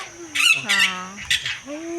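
A lovebird at a zoo squawks in short, harsh, nasal bursts, two close together then a third after a pause, loud and near, with faint background hum and no talking.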